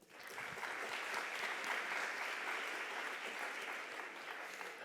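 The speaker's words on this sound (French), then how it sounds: "On peut les applaudir également." Sustained applause from a conference audience at a national waste-management assembly in France, dense even clapping throughout with no speech on top.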